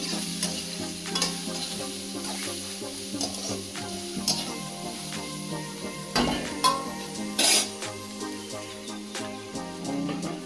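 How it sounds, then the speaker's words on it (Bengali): Onion, green chili and spice paste fry in a pan for chirer polao, a continuous low sizzle broken by repeated scraping stirs and a few sharp clinks of the spoon against the pan. "পেঁয়াজ লঙ্কা আর বাটা একটু ভালো করে ভাজবো"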